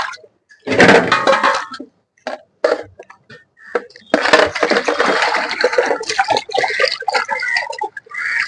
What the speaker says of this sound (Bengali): মাছটা এখন জলের মধ্যে দিয়ে দিলাম।